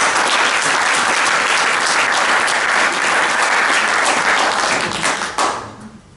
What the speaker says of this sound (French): On l'applaudit un peu.